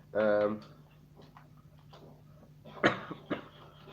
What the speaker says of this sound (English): I'm still coughing a bit